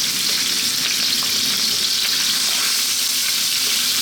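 Pork sizzles loudly in a wok of sunflower oil over very high heat, a dense continuous hiss and crackle of stir-frying that stays steady throughout.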